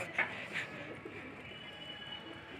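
Pigeons coo softly in an outdoor flock, a few low burbling calls at the start followed by faint, continuous background murmuring.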